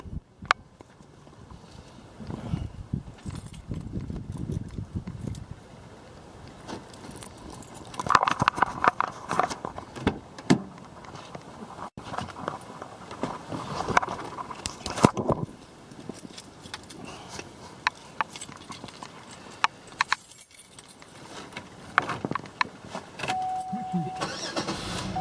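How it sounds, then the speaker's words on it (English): A damp 2001 Chevy Malibu with a 3.1 V6, fresh spark plugs and ignition wires, cranks from cold and settles into a steady idle, heard close up with a person talking over it. "So just gonna do a cold start."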